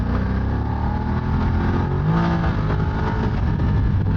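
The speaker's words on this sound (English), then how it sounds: "Just listen to that engine" A Voge DS900X motorcycle engine revs hard while riding twisty country roads, a loud, continuous, rising and falling growl with no voices.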